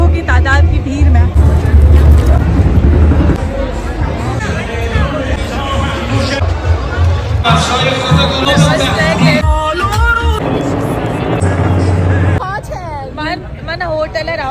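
A huge crowd at a revolution day rally in Tehran, a dense babble of many voices with traffic rumble and shifting chants, steady and loud, while a nearby voice talks over it.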